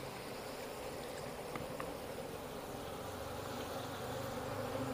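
Apis cerana honeybee colony being relocated from a well, giving a steady, dense buzzing drone throughout with a few faint brief clicks over background noise.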